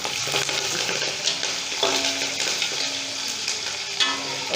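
Onions frying light brown in hot oil for a tahari rice dish, a dense continuous sizzle with occasional stirring scrapes, close and fairly loud, no talking.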